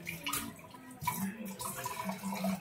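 Running faucet water from an outdoor tap rinsing fresh pechay leaves, a steady close splashing wash with soft water movement throughout.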